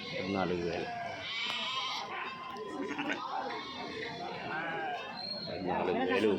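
Lambs and sheep bleat repeatedly at a busy livestock market at Kadiri, the calls rising over constant crowd chatter and haggling voices nearby.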